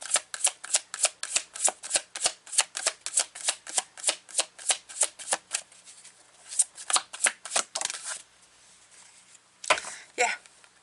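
A deck of tarot cards being riffled and shuffled close up, a quick run of about twenty crisp rhythmic bursts that slows into a few spaced shuffles and ends with two louder final riffles, with no talk.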